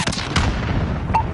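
A missile launch in a video game, a heavy booming blast followed by a rumbling rush, with a short crack near the end.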